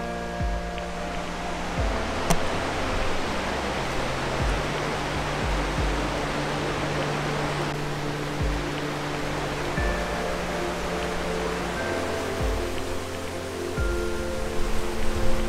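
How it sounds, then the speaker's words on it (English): A waterfall in the Höllentalklamm gorge roars close by in a steady, dense rush of falling water that never lets up, with no voices over it. "What do you think of the waterfall, Mr. Mathias, man?"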